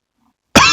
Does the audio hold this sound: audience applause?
no